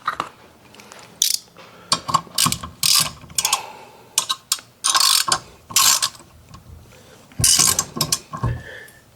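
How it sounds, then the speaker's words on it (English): A ratchet clicks in quick bursts while tightening 13 mm bolts on the steel frame of an electric tail-dragger aircraft tug under assembly, with repeated short runs of sharp pawl clicks separated by brief pauses. "securely tighten all the bolts"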